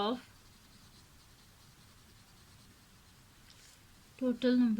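A pen scratches steadily across paper while a maths exercise is worked out by hand, a soft continuous writing sound, with a voice briefly at the start and returning at the end.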